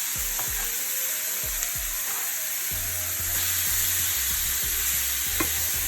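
Onion, sweet pepper, scotch bonnet pepper and tomato sizzle with curry in a pan for shrimp curry, a steady hiss under repeated scraping stirs and low rumbling knocks, close and fairly loud, with no talking.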